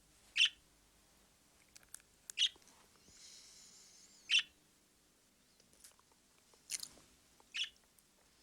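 A caged bird gives about five short, sharp chirps at a steady pace, spaced across a quiet indoor room with faint background hum and no talk.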